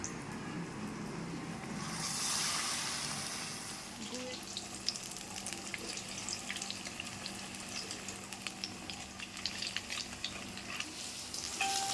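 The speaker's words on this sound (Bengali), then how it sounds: "লাল লাল করে ভেজে নিয়েছি, দেখো লাল টকটক করছে।" Stuffed ash gourd fritters fry in hot oil, a steady close sizzle and bubbling with a few faint clinks of a utensil, with no talking.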